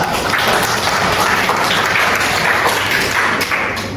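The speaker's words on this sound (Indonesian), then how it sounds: "Tepuk tangan untuk Alura" Classroom applause for a student presentation, a dense, steady patter of hand clapping filling the room at close range throughout, with no speech over it.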